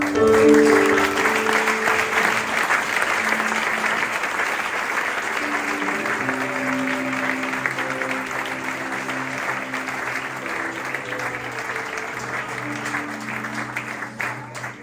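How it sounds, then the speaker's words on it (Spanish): A church congregation claps loudly and continuously, dense applause filling the room for about fifteen seconds while sustained organ or keyboard notes hold underneath and slowly change. "El mejor aplauso que tengas para mí"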